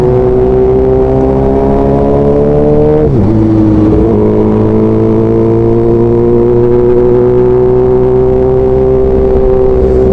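Suzuki motorcycles riding on the NLEX expressway, a loud, sustained engine drone that dips briefly with a gear shift, then climbs again, all under heavy wind rush.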